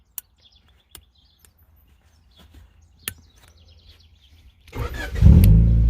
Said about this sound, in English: Push the button and our car starts.